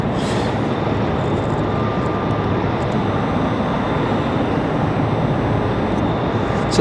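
An American Airlines Airbus A319 arrives from Philadelphia at Raleigh-Durham airport. Its loud, continuous jet roar is sustained and close throughout, and a thin high whine runs on top.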